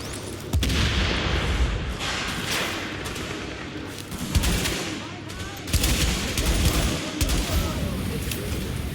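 Grenade blasts and gunfire in the shooter video game The Division: several sharp booming explosions and bursts of shots at intervals over dense background noise, with a voice in between.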